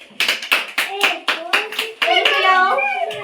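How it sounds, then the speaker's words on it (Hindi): Children in a classroom clapping their hands in a series of sharp, evenly spaced claps, followed by young voices chanting together at close range. "ताली बजा दो, लगाओ तो।"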